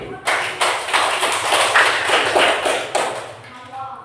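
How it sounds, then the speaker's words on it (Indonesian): A class claps for a student during a floor gymnastics lesson, a loud burst of clapping that holds for a few seconds before fading, with voices underneath. "tepuk tangan untuk Rasid."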